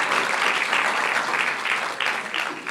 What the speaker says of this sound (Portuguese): Vamos dar uma salva de palmas aí para os jovens que vão casar.